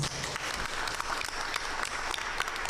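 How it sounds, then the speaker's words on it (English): Applause from a school board meeting audience honoring top high school students, steady and moderately loud clapping throughout with no voices. "let's just give them a big round of applause."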